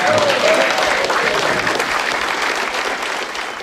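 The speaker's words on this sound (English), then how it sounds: "At the back of the room in the victorious caucus, the new Foreign Minister joined in the applause." Sustained, loud applause from a caucus room crowd welcoming Australia's new Prime Minister and Deputy Prime Minister, dense clapping throughout that fades slightly toward the end.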